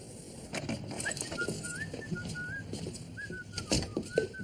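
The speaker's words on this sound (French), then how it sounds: "Depuis quand tu sifflotes?" Someone whistles a soft, wavering melody in short phrases, fairly faint, over a busy background of rustling and scattered knocks.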